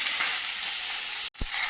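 Small mourala fish sizzle and fry steadily in a pan, a continuous close hiss with a brief drop to near silence and a short thump before the frying resumes.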